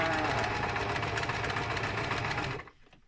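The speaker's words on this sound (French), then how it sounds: "Donc c'est parti, juste pour l'essai zigzag." A domestic sewing machine stitches a test zigzag in one continuous, dense mechanical whir at close range, running steadily before stopping abruptly near the end.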